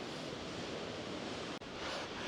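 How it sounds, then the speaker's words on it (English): Choppy ocean waves wash against the Orkney coastline in a dense, continuous roar of surf mixed with gusty wind, with one brief dropout partway through. "it's choppy today and the waves just make it look even more spectacular"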